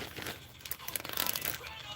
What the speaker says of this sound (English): I have a big giant plastic bag that I put all these in.